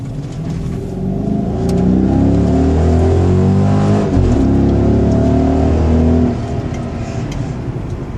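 A car engine revs loudly and close for several seconds, its pitch rising and holding before it eases off, with no voices.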